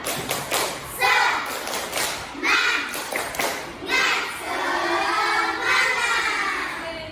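In a primary classroom lesson, children chant a spirit clapping routine, loud rhythmic bursts of clapping alternating with shouted young voices in short repeated phrases.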